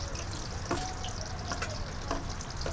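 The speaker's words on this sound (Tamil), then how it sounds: "வெங்காயம் நல்லா வதங்கிட்டு இருக்குப்பா" A soft, continuous sizzle of large onions frying in oil for a Kerala chicken gravy, with occasional faint clicks and stirring sounds, no speech.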